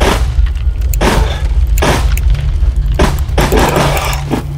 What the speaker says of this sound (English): When you fire normally, you get semi-auto fire.